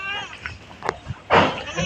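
A Beetal goat on a farm bleats in short bursts, one louder cry near the end, close and clear, with a voice talking nearby.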